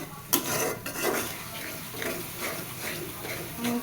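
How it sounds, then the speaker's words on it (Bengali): Masala being stirred and sautéed in a pan for a chicken dish, with a sharp clank of the spoon at the start, then soft scraping and low frying noise, brief and close. "এবার ভালো মতো মশলাটা কষাই নিব"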